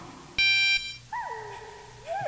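Codec call beeps in Metal Gear Solid on PlayStation: a loud, bright electronic tone burst about half a second long, then sliding chirp-like synthetic tones over a low game background hum, with no talking.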